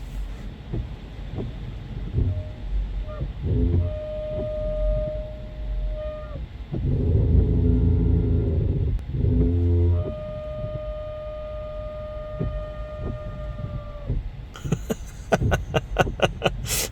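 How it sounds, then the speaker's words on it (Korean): A Tesla Model 3 plays a high-pitched electric whine that rises and holds in sustained violin-like tones over a background of steady rain, with a few louder bursts and a clicking pattern at the end. "비오는 날에 모델3 바이올린 소리를 한번 녹음해"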